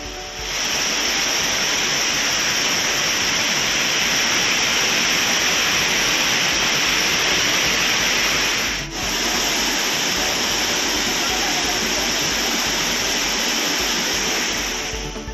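The Courtallam waterfalls in flood give a loud, dense, unbroken roar of rushing water, steady throughout with no voices.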